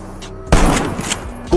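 A hunter's gun in a werewolf video game fires one sharp, loud blast that decays over about a second, followed by a second shorter bang at the end.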